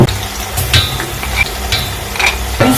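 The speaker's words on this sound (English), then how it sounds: "I'm just frying my onions to golden brown" Onions fry with ginger and garlic paste in a pan for fried rice, a loud, steady sizzle broken by scraping stirs of a utensil, close and with no talk.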